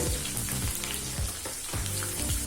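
Chopped ginger and garlic sizzle steadily in hot oil, a continuous crackling fry with no voices.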